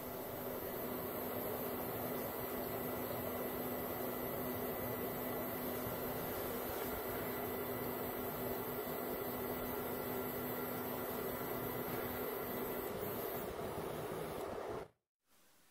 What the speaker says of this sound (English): Note here that Z-axis motors will make some noise due to the load on them.